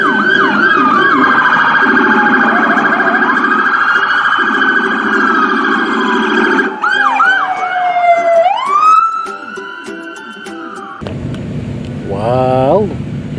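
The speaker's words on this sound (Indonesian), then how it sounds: "Wow, lihat teman-teman, ada mobil polisi." A police car siren sounds loud and near, cycling through sweeping wails and rapid yelp patterns that change mode several times, with a brief voice-like burst near the end.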